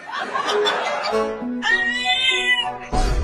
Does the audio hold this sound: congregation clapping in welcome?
no